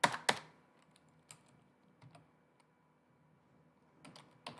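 Someone types on a computer keyboard in a quiet room, with a few sharp clacks at the start and then sparse, soft key taps in small clusters.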